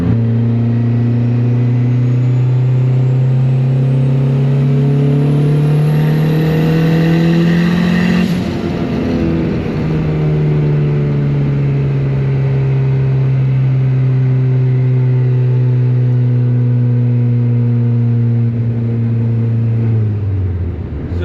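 A turbocharged Honda Civic pulls hard in fourth gear, its engine note climbing steadily and loudly as boost builds, with a brief dip before the rising drone continues close and alone.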